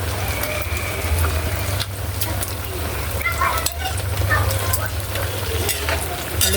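Ginataang sayote, chayote simmered in coconut milk, stirred in a pan with a spatula, giving repeated close scraping and clacking strokes over a continuous bubbling sizzle and a low hum.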